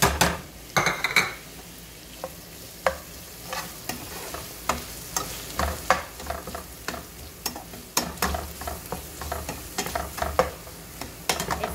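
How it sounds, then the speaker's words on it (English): Onion frying in a pan with tomato, black pepper, masala, turmeric and garlic: a steady close sizzle broken by repeated sharp scrapes and knocks of a utensil stirring against the pan. "I'm going to fry onion, you see, tomato, onion, black pepper, masala,"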